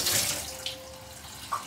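A kitchen tap runs into a sink during washing up, a steady close splashing stream with a couple of brief water bursts as things are rinsed under it.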